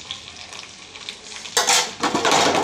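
Fish-fat fritters frying in hot oil and flipped one by one: a soft sizzle, then bright bursts of spattering and utensil clatter as the fritters are turned.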